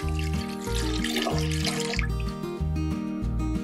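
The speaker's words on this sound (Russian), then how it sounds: "Тем не менее, вот мы компенсируем теперь нашим хмельным настоем. Заливаем его сюда, также отфильтрованным." Filtered hop infusion poured into a vessel while brewing black bread beer, a steady liquid rush for about two seconds that then fades beneath continuous background music.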